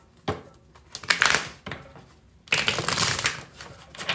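Tarot cards shuffled and laid down during a reading, giving close, crisp riffling bursts and papery slaps in two main flurries with short pauses between, no voices.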